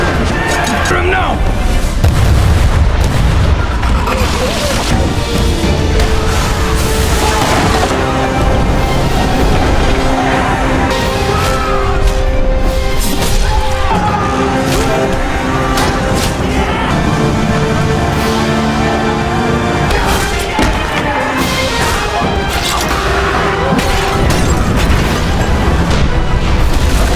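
Explosions burst aboard a ship in the Korean war film The Admiral, with repeated heavy booms and blasts amid loud battle noise and dramatic score, while a narrator talks over much of it.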